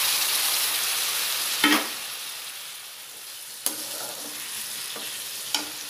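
Onion, tomato and curry leaves frying in a pan, a soft steady sizzle with a few sharp scraping stirs spaced through it.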